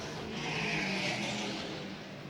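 A BMW race car approaches on a circuit during a racing event, its engine a faint, steady rising drone without talk.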